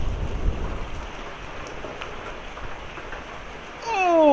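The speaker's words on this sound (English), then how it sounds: "Another piece of hail." Hail and rain fall during a severe thunderstorm, a steady, even outdoor hiss with faint scattered ticks, and near the end a rising tonal whine swells in over it.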